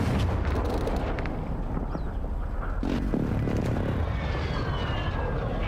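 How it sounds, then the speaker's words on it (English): A precision airstrike in Call of Duty Warzone, heard as a loud rumbling roar of aircraft and heavy blasts that stay dense and booming the whole time, with no talking. "Precision airstrike."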